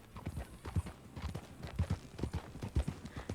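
A horse gallops in Red Dead Redemption 2, its hooves clip-clopping in a steady, rhythmic beat at moderate volume with no voices over it.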